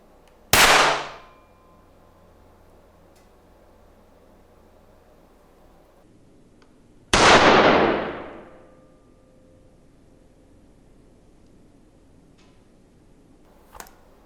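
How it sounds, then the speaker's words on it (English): A Sig P320 pistol handled as its slide is moved, with two sharp, loud reports several seconds apart, each decaying quickly into a quiet room, followed by a faint click near the end. "I'm gonna move the slide and we'll see if it goes off."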